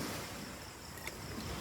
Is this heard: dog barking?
no